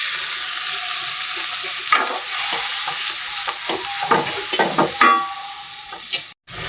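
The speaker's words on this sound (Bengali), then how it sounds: "সামান্য একটু পানি দিলাম মশলাটা কষানোর জন্য।" Turmeric spice paste with a splash of water sizzles steadily in a pan for a spicy Bangladeshi dried-fish curry, with intermittent scraping stir strokes rising above a constant frying hiss.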